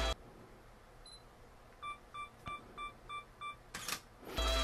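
A camera self-timer, set to two seconds, beeps six times in a steady rhythm, then the shutter clicks, with a second mechanical clack just after, against a quiet background.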